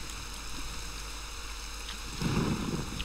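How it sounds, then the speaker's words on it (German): Steady rain falls in the video game Wolfenhain, a continuous hiss of rainfall with a low rumble that grows louder near the end, with no one speaking. "Es regnet."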